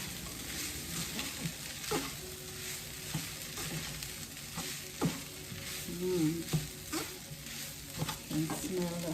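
Shrimp fried rice with garlic frying in a pan, a soft steady sizzle broken by scattered clinks and scrapes of stirring, fairly quiet and close, with a brief voice at moments.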